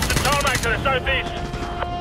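Gunfire in the Call of Duty Modern Warfare 2 Campaign Remastered on PS5, a loud, dense rattle of rapid automatic shots mixed with battle noise, with a voice talking over it.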